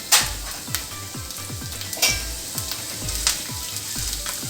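Julienned ginger and finely chopped garlic frying in oil, a close sizzle punctuated by repeated metal spatula clinks and scrapes against the pan, with no one speaking.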